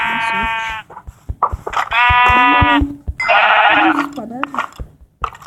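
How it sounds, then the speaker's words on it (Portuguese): Two Minecraft sheep bleat in repeated loud, wavering calls, close and clear, with short pauses between them and brief game sounds in the gaps. "Duas ovelhas."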